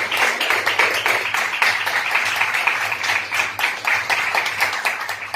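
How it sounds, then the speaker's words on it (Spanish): Congregation applauding during a church devotional service, many people clapping in a fairly rhythmic, close pattern at steady volume, with a low hum running underneath. "Démosle un aplauso al Rey de Reyes y Señor de Señores."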